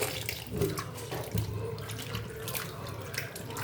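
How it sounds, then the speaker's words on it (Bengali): Cut potatoes and other vegetables are swished and rinsed together in water, giving a continuous splashing, sloshing wash with small bursts of stirring, close and fairly quiet. "সমস্ত সবজিগুলোকে একসাথে নিয়ে ভালো করে ধুয়ে"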